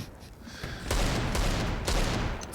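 Grenades exploding in Counter-Strike on the Inferno map during a pro match, several sharp blasts in quick succession with broadband bursts and rumbling tails, loud and close.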